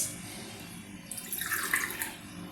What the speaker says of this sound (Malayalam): 2 കപ്പ് പൊടിക്ക് 4 കപ്പ് വെള്ളം ഒഴിച്ചു